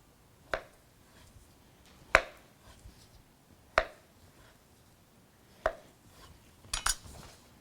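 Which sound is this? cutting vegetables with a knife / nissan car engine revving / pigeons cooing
cutting vegetables with a knife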